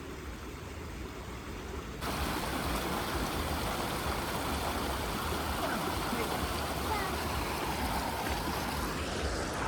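Stream water flows in a steady, loud broadband rush that swells suddenly after a quieter opening and then holds constant to the end.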